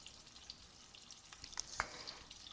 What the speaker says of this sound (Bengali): তেলটা ভালো করে গরম হওয়ার পর মাছগুলো আস্তে আস্তে ভেজে নিচ্ছি